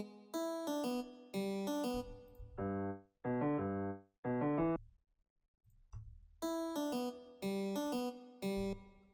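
Reversed melody in a music production demo, heard as phrases of swelling notes that fade in and cut off abruptly, with brief gaps and a quiet pause midway, fairly soft and alone.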